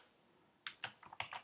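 Computer keyboard typing code, a handful of quick, close keystrokes in an irregular burst after a brief quiet start, no voices.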